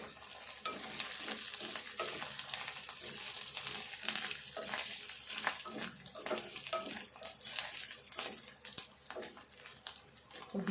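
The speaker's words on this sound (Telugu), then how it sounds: "ఇప్పుడు ఒక రెమ్మ కరివేపాకు వేసుకుందాము. ఇది కూడా కొంచెం వేగనిద్దాము." Curry leaves fry and crackle in hot oil in a pan, with a continuous bright sizzle broken by repeated scraping strokes of a spoon stirring, close and steady throughout.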